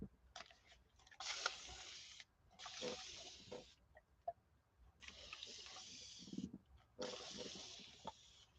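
A spray bottle misting water onto painted paper, several bursts of hissing spray lasting a second or so each, separated by short pauses and light handling noises, close and fairly quiet with no talking.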